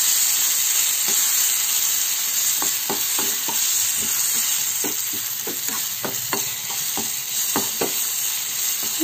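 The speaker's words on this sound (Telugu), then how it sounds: "మేపాలి ఫ్రై అయిన తర్వాత మనం ముందుగా ప్రిపేర్ చేసి పెట్టుకున్న మామిడికాయ పచ్చడిని అందులో" Grated raw mango pickle frying in hot oil with a fenugreek tempering, a steady loud sizzle and hiss with repeated scraping stir strokes across the pan, no voices.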